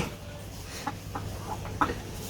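A few short, quiet hen clucks from village chickens sound against a steady low background hum, spread out over a couple of seconds.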